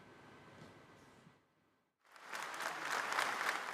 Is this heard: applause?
yes